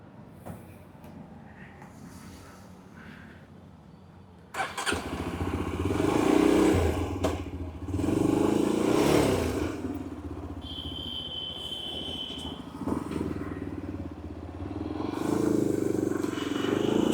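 A motorcycle with a newly replaced O2 sensor starts up, idles with a chugging beat, then revs and pulls away, engine noise rising and falling close by, with short bursts of talk under it.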